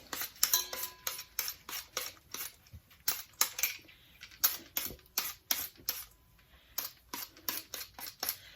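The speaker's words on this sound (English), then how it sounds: "so I'll have to cut it with the knife" A knife trims blemished spots from a peeled sweet potato, making a rapid series of crisp, close cuts and taps against the board in uneven bursts, with no talking.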